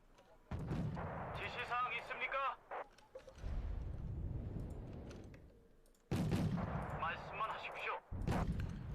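Repeated artillery blasts and gunfire boom and rumble through a Second Korean War battle in the strategy game Wargame Red Dragon, heavy bursts separated by brief pauses, with a voice talking over it.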